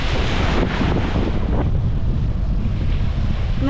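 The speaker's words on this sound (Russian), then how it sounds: "Но ветер поднялся." Strong wind buffets the microphone on a beach by the sea, a constant roaring rush with gusty swells and faint surf beneath, no voices present.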